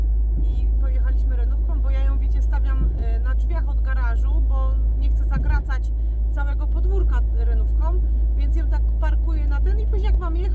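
A Renault car driving, heard from inside as a steady low engine and road rumble, with people talking throughout over the drone.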